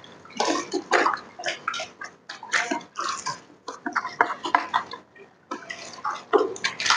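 A cleaning chemical mixed into a container of water is shaken hard, giving close, choppy sloshing bursts with brief pauses between them over several seconds.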